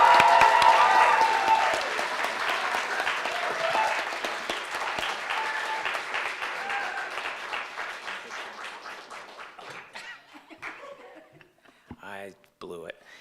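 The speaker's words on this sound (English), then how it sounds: "let them hear a round of applause welcoming all of them." A large audience at a January convocation at St. John's College in Santa Fe gives a sustained round of applause to welcome new students, loud at first and gradually thinning out, with some chuckles and scattered voices.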